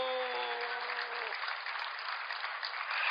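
Congregation applauding at a Korean church sermon, a dense sustained clapping wash that carries steadily for about three seconds, with a sung or spoken tone underneath fading out early.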